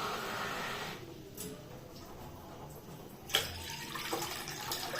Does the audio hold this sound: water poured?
yes